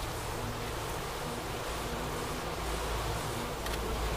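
Honey bees buzzing as a dense, continuous hum that fills the space, steady and fairly loud with no voices.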